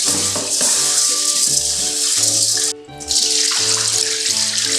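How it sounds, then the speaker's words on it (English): Japanese rice being washed in water for nasi lemak, a steady rush of running water and rinsing that stops briefly partway through, heard over a continuous backing of music. "Not the normal rice, but Japanese rice it is. And then I'll give this a wash."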